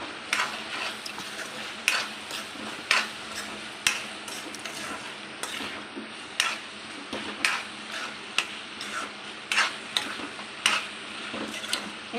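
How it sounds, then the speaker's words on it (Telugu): Mutton keema frying in a pan with salt and turmeric, a soft continuous sizzle broken by repeated sharp scrapes and clacks of a spoon stirring against the pan, close and fairly quiet. "ఇప్పుడు మనం దీంట్లో 1 స్పూన్ సాల్ట్, 1/2 స్పూన్ పసుపు వేసి ఫ్రై చేసుకోవాలి."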